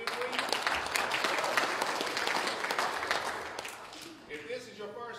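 A church congregation claps in praise during a Sunday morning service, steady dense applause filling most of the stretch before tapering off toward the end, with talk and voices mixed in.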